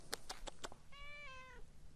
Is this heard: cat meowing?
yes